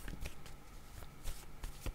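Playing cards being shuffled, several soft riffling bursts in an irregular rhythm, close and quiet, with no voices over them.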